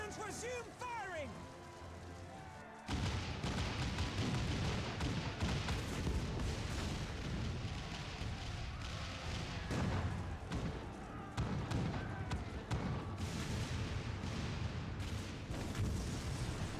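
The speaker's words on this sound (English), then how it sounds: "All cannons resume firing!" Cannons fire in a Final Fantasy XIV: Stormblood battle scene, a dense, continuous barrage of booms and thuds that starts abruptly after a quiet opening and keeps going loud under battle noise.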